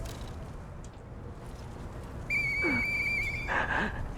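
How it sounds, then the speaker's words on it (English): A person whistles a few clear, sustained notes with a short sliding pitch, moderately close over a quiet background hiss. "I know that whistle."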